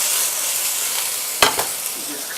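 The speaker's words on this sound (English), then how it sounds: "Has to be nice and hot before you put your meat in." Meat searing in a hot pan gives a steady, close sizzle throughout, with a couple of sharp crackles and spits partway through.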